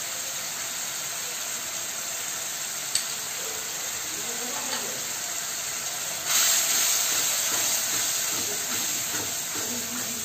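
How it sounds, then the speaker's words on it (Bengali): Spices sauté in a pan with sugar and ground nut paste, a steady close hiss and sizzle that brightens and grows louder partway through, with faint stirring sounds. "এবার ভালো করে মশলাগুলোকে কষে নেব"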